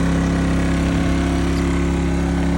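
A Scheppach SG2500I 2 kW inverter petrol generator running steadily under load, a loud, constant mechanical drone with a strong low hum and even pitch throughout, heard alone.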